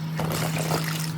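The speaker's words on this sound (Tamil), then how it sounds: "நம்ம தண்ணி ஊற்றுறேன்" Water pours in a steady, hissing trickle for a moment, close by, with a low hum underneath.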